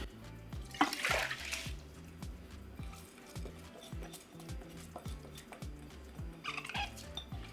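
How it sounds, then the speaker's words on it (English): Cooked-rice prep at a stovetop pot: two brief bursts of rustling and watery sloshing as rice in water is tipped into the pot, over a steady, rhythmic low knocking in the background. "We're going to transfer the rice into the pot."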